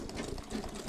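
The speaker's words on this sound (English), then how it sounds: "you have to stitch it so the leather will not be shifting left and right." Sewing machine stitching a leather handbag, a steady close, continuous mechanical whir with rapid needle ticking throughout.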